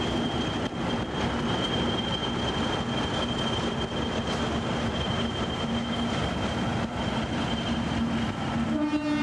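A British Rail Deltic diesel passenger locomotive from English Electric, rated at 3,300 horsepower, roars along at a loud, steady level with a sustained horn-like tone and rail noise running throughout, heard alone.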